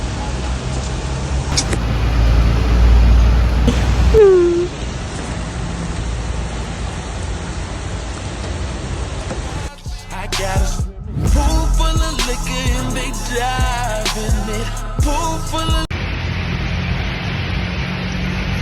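Steady patter of rain falling outdoors, a constant hiss near the microphone over the whole stretch, joined midway by brief rustling and handling noises and the passing hum of road traffic.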